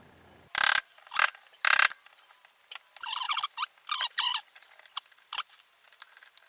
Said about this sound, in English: so we can get our screwdriver in here like this and hopefully get these screws out.